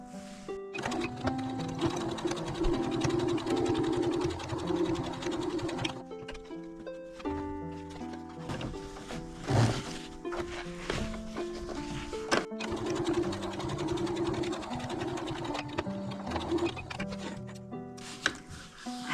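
A sewing machine stitches fabric for a three-zipper pouch in several close bursts, its motor whirring with rapid needle clatter, with brief pauses between runs.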